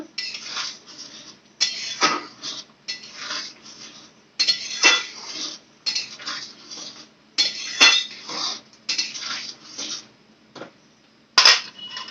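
A spatula stirs vegetarian ghugni with sugar and garam masala in a metal pan, giving repeated bursts of scraping and clinking in an irregular rhythm, close and moderately loud, with short pauses between strokes.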